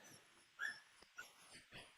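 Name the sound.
puppy whining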